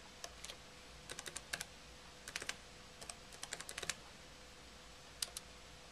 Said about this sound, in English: type in our library card number